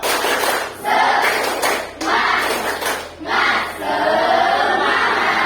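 A classroom of students performs the 'tepuk semangat' spirit clap, bursts of group hand clapping in a quick rhythmic pattern, nearby and fairly loud, with voices chanting along between the claps.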